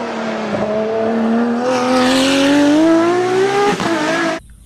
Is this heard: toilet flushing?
no